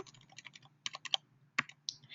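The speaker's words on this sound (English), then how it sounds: "By using the keyboard here, we're going to select F1 to turn the screen brightness down." Light clicking presses on a MacBook keyboard's function keys, a quick run of soft taps followed by a few sharper, spaced clicks, close and quiet.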